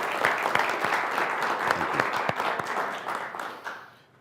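An audience at an entrepreneurs' business event breaks into steady applause, a dense wash of many hands clapping that fades away at the end.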